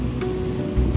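Artificial rain water pouring on a film set, a steady broadband wash of falling water that swells louder near the end.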